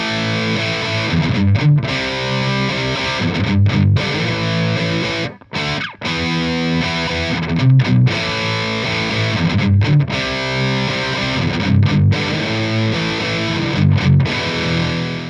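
Heavy distorted electric guitar through a Marshall DSL amp's red channel plays chugging metal riffs with palm-muted rhythms and brief pauses, loud and up front.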